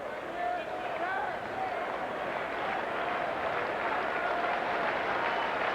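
A baseball stadium crowd at a 1999 Texas at Boston game cheers for a strikeout with a sustained roar and scattered applause, while a commentator talks over it.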